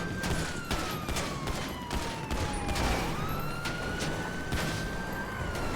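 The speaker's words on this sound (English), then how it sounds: "They are all firing upon us." Repeated sharp gunshots ring out in a GTA roleplay shootout inside a tunnel, irregular bursts over a wailing police siren that sweeps up and down in the background.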